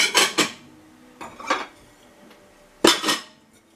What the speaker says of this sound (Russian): В общем, буду разбирать посуду.